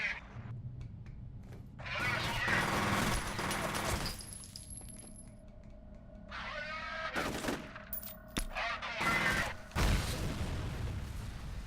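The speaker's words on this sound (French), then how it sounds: "Mais là apparemment elle a fonctionné la grenade." Explosive gunfire and a grenade blast in the shooter game F.E.A.R., with sharp bursts of shots and booms in rapid, uneven clusters over a busy combat soundscape.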